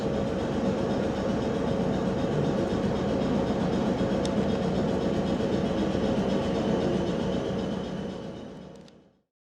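A South Western Railway train near Horsley rumbling past at close range in a steady, loud roar with a faint high whine, then fading quickly away to silence.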